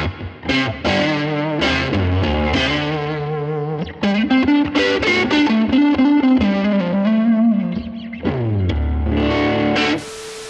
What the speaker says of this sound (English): I've delayed the second signal by 82 milliseconds, so it feels like you're hearing the sound bounce off of the walls of a huge space.